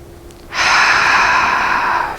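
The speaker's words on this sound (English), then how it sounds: "Breathe it in one more time." A single deep, slow breath drawn in and released, close and loud, rising after a short quiet moment and sustained as a steady airy rush.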